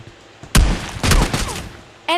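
Gunfire in PUBG Mobile Lite, a few loud, sharp shots in quick succession, each with a short echoing tail.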